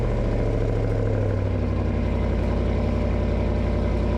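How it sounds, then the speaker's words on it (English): A RAM 1500 with the 5.7L HEMI V8 idles steadily, a low, even engine rumble heard close and alone, with the engine burning oil and producing blue smoke. "we are seeing a lot of blue smoke when this engine fires up."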